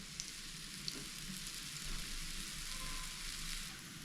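Akki rotti, a rice flatbread, cooking in oil on a pan, giving a steady close sizzle and fry with a few small pops throughout.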